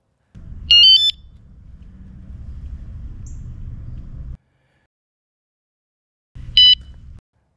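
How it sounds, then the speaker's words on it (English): A WSDCAM eBile field alarm rated at 110 dB goes off: a short shrill beeping burst, then a few seconds of low rumbling sound, silence, and another brief piercing beep near the end. "Now the alarm system isn't as loud as my other one."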